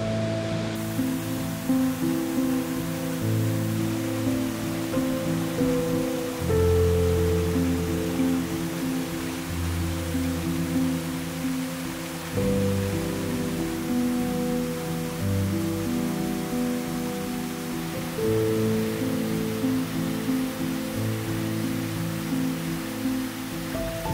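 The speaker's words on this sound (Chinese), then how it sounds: "你可以看到滑瀑的水量很丰沛哦" A sliding waterfall in a forest gorge near Keelung, swollen with winter rain, pours in a steady, dense rush of water that fills the whole span without pause, with a sustained musical drone layered over it.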